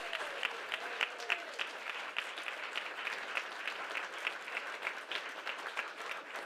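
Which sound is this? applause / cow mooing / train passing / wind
applause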